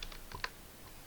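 A handful of quick, light keystrokes on a computer keyboard, close and quiet, as a password is entered into a Debian terminal.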